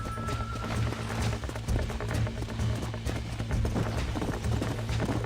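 Horse hooves clip-clop steadily on the ground during a horse-taming scene in Red Dead Redemption on Nintendo Switch, a rhythmic, close trotting pattern with a faint whinny.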